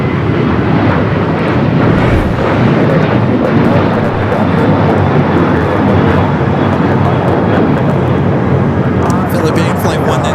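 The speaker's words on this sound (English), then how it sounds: "Philippine flight 1 and 2 coming in from Tokyo Narita, originally coming in from Singapore." Philippine Airlines jet arriving at Los Angeles airport from Tokyo Narita, a loud, continuous roar of engines with wind buffeting the microphone throughout.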